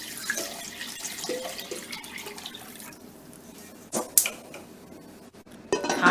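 Tap water runs steadily into a big pot holding country-style pork ribs, a continuous close splashing fill with a few sharper clinks and surges near the end, no voices.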